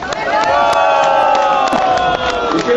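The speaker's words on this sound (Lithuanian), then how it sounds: "Plojimai Ukmergiai ir į stadioną žengia Kuršėnų tremtinių grupė." A stadium crowd at a summer 2012 gathering of deportees and political prisoners in Ariogala loudly cheers and claps as the Kuršėnai deportees' group enters. Sharp applause runs over sustained voices or music.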